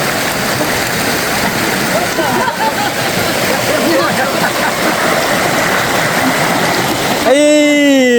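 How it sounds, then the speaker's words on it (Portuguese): Waterfall on the Guaxinduba river at Canta Galo, a loud continuous rushing roar of falling water close by, with a brief tonal sound near the end. "Olha só o barulho da água aí."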